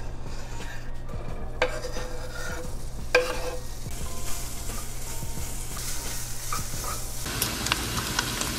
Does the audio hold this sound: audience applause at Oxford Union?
no